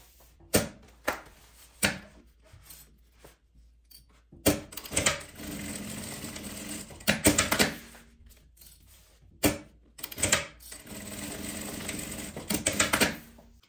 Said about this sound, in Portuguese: E vamos costurar essas alças